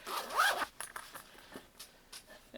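A zipper on the pouch of a 1881 Knife Works Mini Tanto knife rasps open in one quick close pull, followed by soft handling rustles and small clicks.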